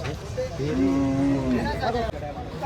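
A bull lets out a long, low moo close by at a cattle market in Chalisgaon, India, rising and falling over about a second and a half, with crowd chatter and outdoor noise around it.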